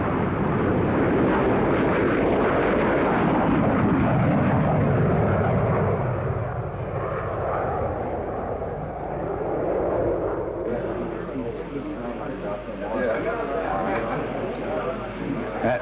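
An early American jet aircraft powered by a Whittle engine flies in 1942, its broad engine roar rumbling continuously beneath a narrator's voice throughout.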